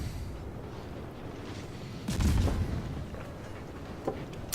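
Naval gunfire in the World of Warships video game, a muffled boom of a salvo over low background rumble, with a smaller burst shortly afterward.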